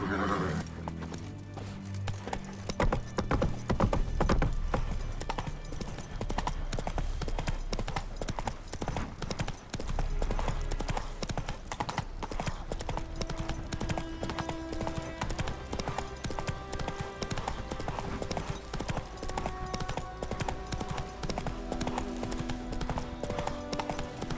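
Horse hooves clip-clop in a steady, brisk rhythm while riding in The Witcher 3: Wild Hunt. A neigh sounds early on, and game music plays underneath throughout.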